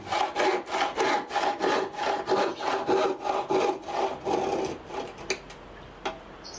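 A Hasston hand saw cuts through wood in about fifteen steady, rhythmic back-and-forth strokes that stop near the end, leaving a few faint taps.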